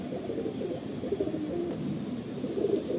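Soft, low cooing of pigeons in a loft, several birds murmuring in overlapping repeated coos at moderate distance, continuous under a faint background hiss.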